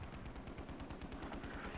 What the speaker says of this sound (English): Mortars still going down on that Northern Village.